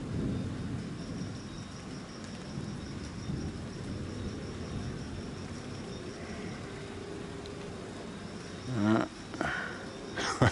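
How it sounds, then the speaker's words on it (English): Heavy rain falls in a steady broadband hiss during a thunderstorm, with a low rumble underneath and a few louder bumps near the end; moderately distant and continuous. "while we wait for these rains. It's coming down a bit heavier now"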